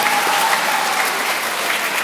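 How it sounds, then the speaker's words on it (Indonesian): A church congregation claps together at an Easter Sunday Mass, with dense, steady applause filling the room for a couple of seconds. "Kita beri tepuk tangan untuk wilayah Damsik."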